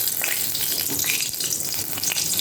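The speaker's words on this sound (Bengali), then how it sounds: "ওই তেলের মধ্যে আমি দিয়ে দেবো শুকনো লঙ্কা ফোড়ন" Dried red chillies sizzle in hot oil left from frying hilsa fish heads and tails, a dense crackling hiss that runs loud and unbroken.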